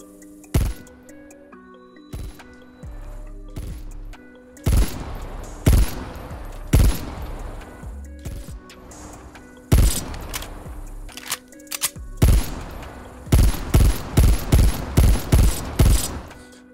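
Rapid gunfire from the Diamatti pistol in Call of Duty, played on a PS5 DualSense controller: bursts of sharp, loud shots in quick clusters, with short pauses between volleys and no talking.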